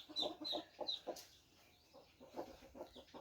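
Chickens from a fighting-cock line cluck in short repeated bursts, a pause, then more clucking, fairly faint and with no talking.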